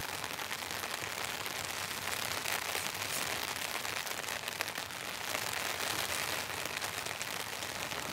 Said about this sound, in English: There's like a fine rain coming down now.